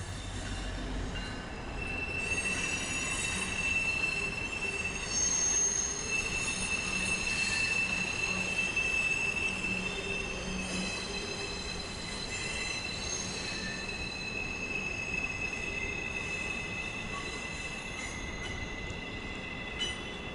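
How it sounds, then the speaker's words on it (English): A Norfolk Southern maintenance train heading to an Amtrak station rolls past with steady rumbling and high, piercing wheel squeals that come and go over a continuous rail roar, with no voices. "One of Norfolk Southern's maintenance trains goes to the Amtrak station."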